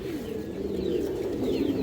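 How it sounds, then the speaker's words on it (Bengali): Kaldom pigeons in a pair coo in soft, rolling low tones, repeating steadily and close by, with faint rustling and occasional higher chirps behind. "মোট 3 পেয়ার কালদম কবুতর আছে দর্শক"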